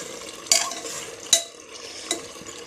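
Meat being browned in a pressure cooker pot is stirred in three distinct spatula scrapes about a second apart, each a sharp scraping burst over a low background sizzle.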